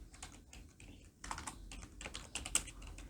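Rapid keystrokes on a computer keyboard, a steady patter of clicks that grows busier and louder midway, alone with no voices.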